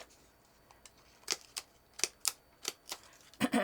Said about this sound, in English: I'm going to punch all different colors.